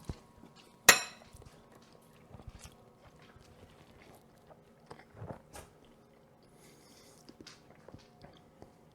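Pasta alla vodka with tomato sauce being stirred and mixed in a pot: a sharp utensil knock, then scattered soft scrapes, clinks and wet squishes, fairly close, without talk.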